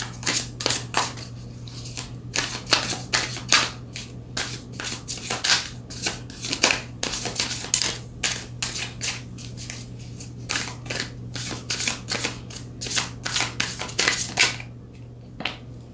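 Tarot cards drawn and handled during a reading, giving a steady run of crisp close-up snaps, slides and flicks of card stock over a low constant background hum, with no talking.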